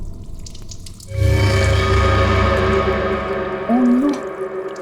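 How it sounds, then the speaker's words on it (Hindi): Water runs from a tap into a bathroom, starting after a short quiet pause and then pouring steadily and fairly loud, with a hollow, ringing filling tone. "बाथरूम में पानी भरने की आवाज आ रही है"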